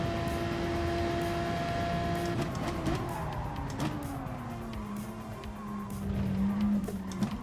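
A race car at speed loses rear grip in a circuit race, its engine note holding steady and then dropping and wavering as the tyres skid, heard from inside, continuous and moderately loud.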